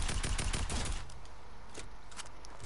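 Video game gunfire in a PS4 shooter: a rapid burst of automatic shots for about a second, then quieter scattered shots under a steady background.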